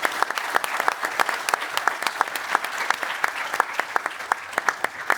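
A conference audience at CyCon 2024 bursts into applause for the chair, dense steady clapping from many hands filling the room without a break.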